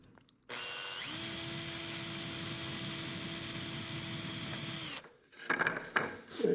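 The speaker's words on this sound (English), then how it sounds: "All right, we're going to drill 2 more holes." A power drill bores holes into a plastic bucket, one steady high-pitched whine running for about four and a half seconds before cutting off, followed by brief clattering handling noises close to the microphone.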